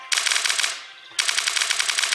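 An assault rifle fires in the video game Starbound: two loud bursts of rapid automatic shots, separated by a brief pause.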